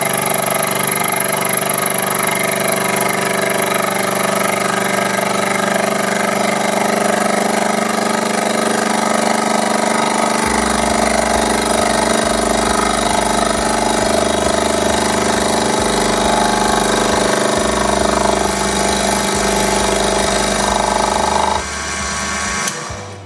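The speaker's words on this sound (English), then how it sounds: "This small lathe can't cut deep enough to go through the scale" A small metal lathe turns a steel shaft with a loud, steady motor whine; a low pulsing drone joins partway through, and the sound dips as it eases off at the end.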